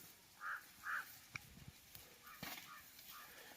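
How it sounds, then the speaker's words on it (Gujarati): Faint crow caws, two short calls heard in quiet village countryside in the Gir area of Gujarat, distant and soft against a low background hush. "કાગડા પણ બોલે છે"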